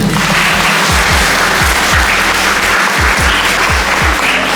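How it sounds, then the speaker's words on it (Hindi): Loud, sustained applause from a crowd of guests at a Christian wedding ceremony in Mahuadanr fills the whole stretch. Dense clapping carries on without a break, with rhythmic low thumps beneath it. "ताली बजाएंगे।"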